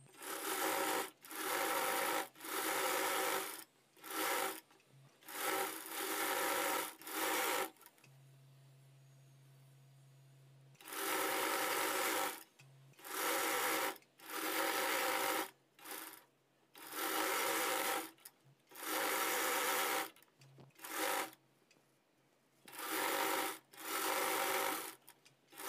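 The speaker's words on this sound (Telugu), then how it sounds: "ఇప్పుడు చుట్టూ స్టిచ్చింగ్ చేసుకుంటూ వచ్చేయండి." Sewing machine stitching the lining of a size 36 boat neck blouse, loud rattling runs of stitching in repeated bursts separated by short pauses and one longer quiet stretch, no voices.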